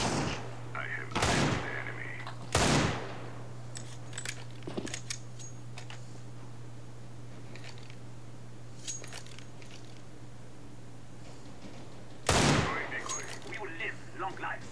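Desert Eagle pistol shots in Counter-Strike: Global Offensive ring out as three sharp, loud cracks, two close together early and one much later, over a steady low hum with faint clicks between.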